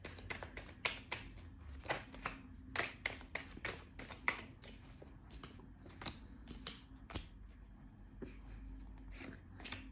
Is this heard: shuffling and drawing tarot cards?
yes